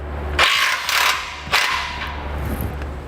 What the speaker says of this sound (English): Now we'll loosen our muffler clamp with the 15mm socket.